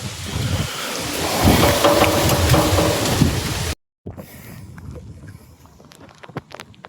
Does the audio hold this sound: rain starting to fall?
yes